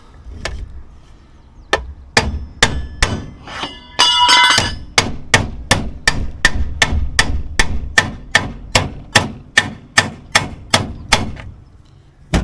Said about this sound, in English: you just go around and tap this up on an old pan like this